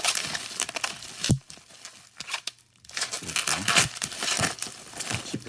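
Bubble wrap packaging being unwrapped around a silver bar, with close crinkling and tearing rustles in bursts and a brief pause midway, loud and busy throughout.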